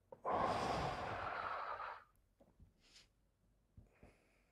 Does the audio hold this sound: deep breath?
yes